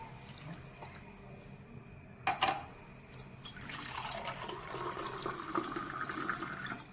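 Quiet kitchen background, a brief clatter, then water pours steadily into a vessel with a gurgling, rising tone.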